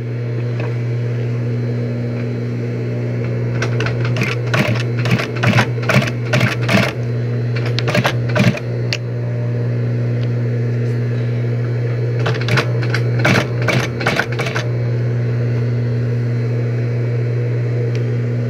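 Close and loud, a sewing machine topstitches a cuff on a woman's blouse, running in short rapid stitching bursts over a steady motor hum with pauses between runs.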